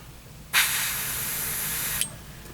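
An airbrush spraying paint to shade a model car, one sharp steady hiss that lasts about a second and a half, close and loud, starting and stopping abruptly.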